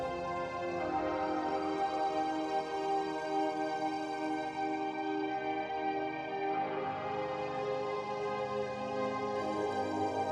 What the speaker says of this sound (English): Sort of a space organ sound.